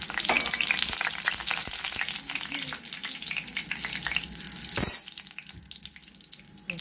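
Food sautés in a pan with a busy, close sizzle and crackle, broken by stirring clatter and a brief louder scrape near the end, with no talking.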